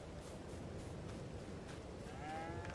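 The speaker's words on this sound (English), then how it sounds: "We have cows." Cows moo on a farm in Farming Simulator 22 on the Hills of Tuscany map, a faint game soundscape with one drawn-out low moo rising near the end and no talk.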